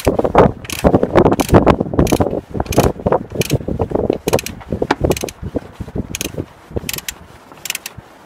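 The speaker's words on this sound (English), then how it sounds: "With the oil drained, it was now time to change the oil filter, and Craig got to play with a torque wrench." A torque wrench ratchets over and over while an oil filter is changed. The clicking is close, loud and busy, and it keeps going in quick uneven runs.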